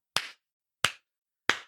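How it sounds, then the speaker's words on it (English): Three sharp, isolated hand claps ring out at a slow, even pace, each separated by nearly a second of silence. "and gives a slow clap."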